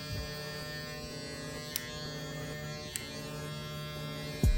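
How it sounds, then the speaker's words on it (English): Electric hair clippers buzz steadily while a barber cuts a high taper on a client with locs, working only the corner of the blade. The hum runs close and unbroken, with a couple of faint clicks and a short thump at the end. "I'm really only cutting with the corner of my clippers. I'm not trying to use the whole blade."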